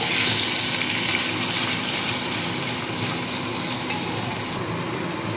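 Taro greens being stirred in a hot cooking pan give off a loud, continuous sizzling hiss with a steady frying texture and no pauses.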